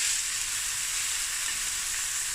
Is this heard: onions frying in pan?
yes